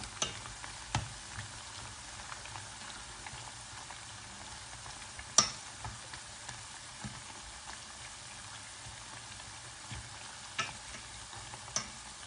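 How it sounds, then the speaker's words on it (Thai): Purple sweet potato chips frying in oil, a soft, continuous crackling sizzle with occasional light clinks and scrapes, quiet and close with no voices. "ทอดเซตต่อไปค่ะ สุดท้ายแล้วค่ะ สีม่วง"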